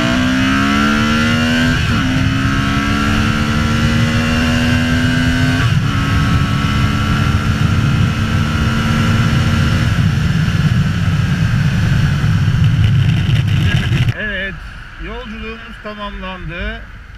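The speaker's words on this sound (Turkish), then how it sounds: "Şurada bir 0-100 yapalım." Honda Transalp 750 motorcycle accelerating hard from 0 to 100 km/h, the loud engine climbing through several gear changes in rising sweeps, then settling after the run, with heavy wind rush throughout.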